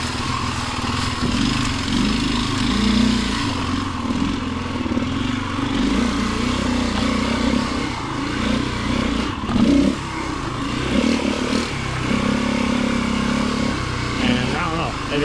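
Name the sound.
motorcycle engine running and revving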